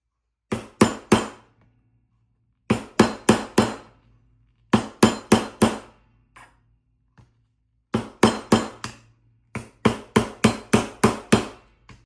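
A nylon hammer taps on a metal fork or spoon being bent into a ring, struck in quick bursts of three to five close, crisp blows separated by short pauses, with no talk.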